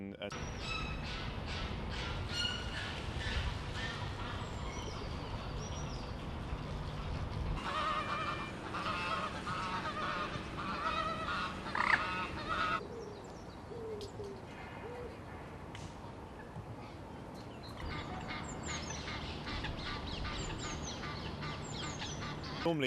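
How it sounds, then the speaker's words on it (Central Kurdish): Birds call repeatedly in a London park, honking and hooting in bursts over a steady ambient rumble, while a person speaks at times. "ئێمە سەرنجی ئاواز و دەنگی باڵندەکان دەدەین"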